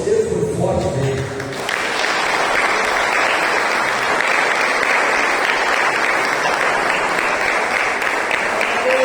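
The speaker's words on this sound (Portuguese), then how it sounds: "E aplaude a Deus que você foi forte dele." A church congregation breaks into loud, sustained applause after a short spoken line at the start, the clapping swelling quickly and continuing as a thick, steady roar to the end.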